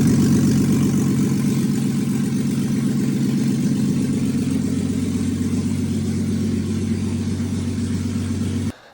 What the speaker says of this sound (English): So we ran the Jeep.